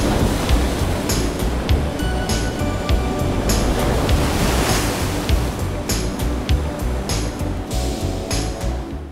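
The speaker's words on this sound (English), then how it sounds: "Another incredible spot is Cape Arago State Park, where the ocean's power is on full display." Pacific Ocean surf crashing at Cape Arago State Park on the Oregon coast during king tides: a loud, continuous roar of breaking waves with repeated surging bursts of spray and hiss, close and powerful throughout.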